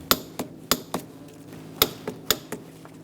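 Metal bolts on the front brake caliper of a 2005-2010 Chrysler 300 being snugged and torqued, heard as a string of sharp, close metallic clicks and taps at an irregular rhythm over a low hum.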